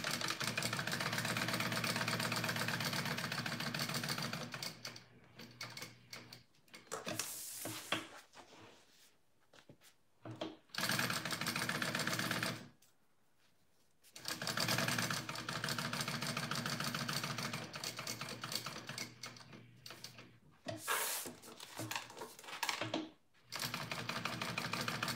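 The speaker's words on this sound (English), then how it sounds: "I'm just going to stitch that on all together." A sewing machine stitches the pieces of a Camille Bag together in long, steady runs, loud and close, broken by short pauses and quieter handling sounds between passes.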